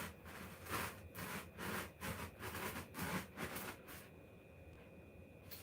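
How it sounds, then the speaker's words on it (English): A hand saw cuts through the middle of a speed-bump-style cat scratcher in quick, even back-and-forth strokes, close and rasping, for about four seconds before the strokes stop and only a faint background hiss remains. "Just eyeball what looks to be about the middle section, and then just start sawing through."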